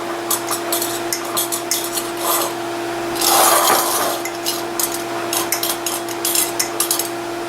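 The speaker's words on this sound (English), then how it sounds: "So we're just going to dry these edges off like this." Glass canning jar rims filled with bacon are wiped dry with a cloth, producing repeated close, rapid rubbing and squeaking strokes in bursts, with one longer, louder rubbing stretch midway and a steady hum underneath.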